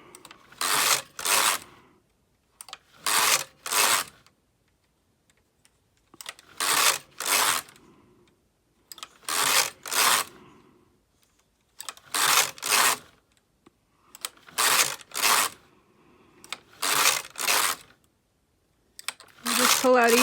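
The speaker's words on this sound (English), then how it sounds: "And then I pull out my first needle. I start my E-wrapping." Needles being pulled out one at a time on a Brother KX-350 knitting machine for e-wrapping, sharp paired plastic clicks and slides repeating at regular intervals of about two and a half seconds, close and crisp with quiet gaps between.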